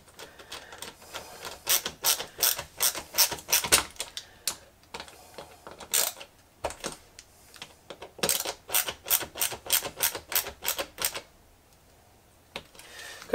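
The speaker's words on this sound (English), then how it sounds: "Crank it down in just a second once I get the other screw in there." Ratcheting clicks from a screwdriver driving a screw while assembling an Ikea Milsbo glass cabinet, coming in quick rhythmic bursts of sharp taps with short pauses between, close by and without talk.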